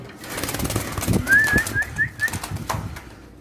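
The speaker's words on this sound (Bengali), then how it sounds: "এটা ড্রাগন কবুতর হ্যাঁ ব্ল্যাক কালার ড্রাগন" Black dragon pigeons in a Bangladeshi pigeon farm, with a short run of soft cooing notes and some rustling and wing movement nearby, fairly close.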